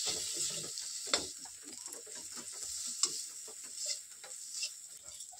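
Spices with cinnamon powder and turmeric are stirred in a frying pan for mochar ghonto, giving a continuous close sizzle with repeated scraping strokes and a few sharper clicks of the utensil against the pan.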